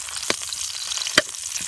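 Onion and garlic sautéing in a pan, a steady close sizzle with two sharp utensil clicks against the pan.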